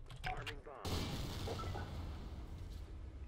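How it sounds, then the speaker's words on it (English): A bomb detonates in the Tactical Intervention shooter game, a sudden loud broadband blast that lingers as a dense rumbling roar, preceded by brief game noise and with a person talking around it. "That's a good bomb. Hey, it blew up and everything."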